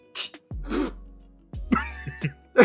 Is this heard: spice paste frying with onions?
no